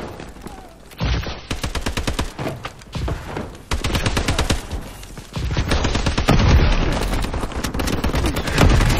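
Shotgun fire in the video game Call of Duty: Advanced Warfare, with loud repeated blasts and dense rapid gunfire of a busy close-quarters match, a few brief gaps between bursts and no speech over it.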